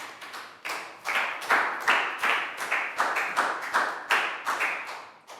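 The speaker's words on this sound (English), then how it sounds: "High five, big round of applause for Pak Bung" Schoolchildren in a Year 3 maths classroom applaud a classmate with short, uneven bursts of clapping that swell and fade in quick waves, fairly close and with no talk over it.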